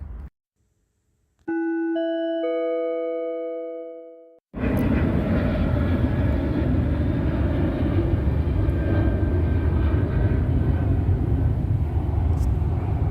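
A commercial airplane passes overhead, a loud sustained broadband roar that starts abruptly and holds steady, preceded by a short sequence of ringing chime tones.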